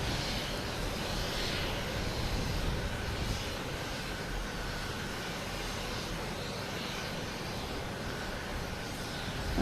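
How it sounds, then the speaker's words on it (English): An Alaska Airlines airliner in oneworld livery, heading to Seattle, rolls around a corner at Boston Logan Airport with a steady, moderately distant jet roar that holds evenly throughout. "Coming up from around the corner here, it's the Alaskan Airlines One World, heading to Seattle"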